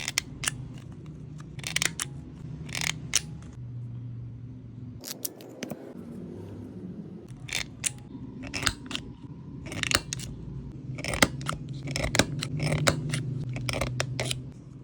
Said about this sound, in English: We're ready to cut the corners. I use this corner punch with 3 sizes.